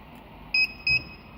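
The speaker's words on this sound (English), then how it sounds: "1 beep confirms it was successful for the first transmitter" Two short electronic beeps from a VJOYCAR smart PKE car immobiliser confirm a transmitter has been programmed, each a clean, close tone lasting a fraction of a second, spaced about a third of a second apart over quiet background.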